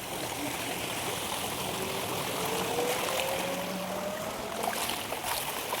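Floodwater pours steadily through a village in Malisahi, a broad continuous rushing wash that stays even and close throughout, with a faint tonal drone rising in the middle and no talk.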